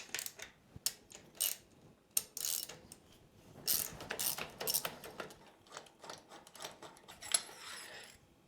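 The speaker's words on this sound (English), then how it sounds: "So we'll take the sprocket cover off and give it a bit of love." Metal clicks, clinks and rattles from tools working the sprocket cover off a KTM 690 SMC R motorcycle, arriving in irregular bursts of close, sharp mechanical taps with short pauses between them.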